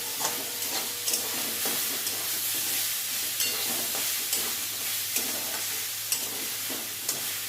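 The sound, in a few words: stirring and frying spinach in a pan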